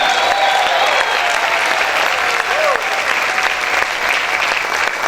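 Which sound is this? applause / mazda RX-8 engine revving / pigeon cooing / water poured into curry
applause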